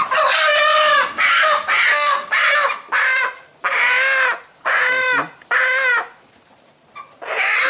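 Large broiler chickens about 4 kg each, kept in a poultry house, give loud, close repeated clucks and squawky calls in a rhythmic series of bursts with brief gaps between.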